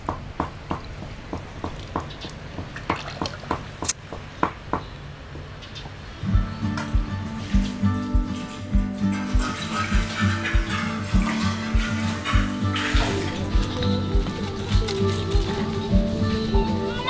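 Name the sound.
running water rinsing pig intestines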